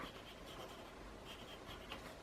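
Steady scratchy rasp of a pencil moving across paper, close and continuous, with soft rubbing strokes and no talking.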